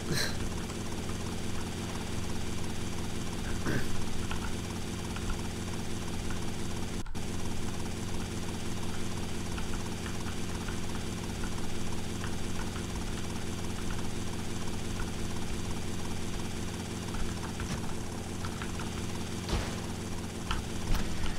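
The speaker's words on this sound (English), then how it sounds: "Land a helicopter like that around there, spin it around" A continuous helicopter rotor and engine drone from the video game GTA: Vice City holds steady throughout, with a brief dropout in the middle and faint clicks over the hum.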